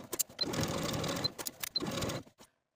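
A sewing machine stitches along the seam where a pair of shorts meets the waistband, running in steady close bursts of whirring motor and needle chatter with brief stops between runs.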